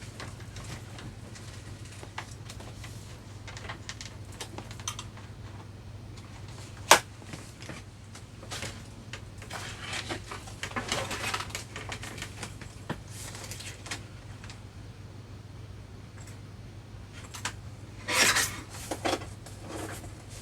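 Scissors trim a decorative paper tag, with soft, faint scraping and rubbing cuts scattered over a quiet room and a few sharper snips.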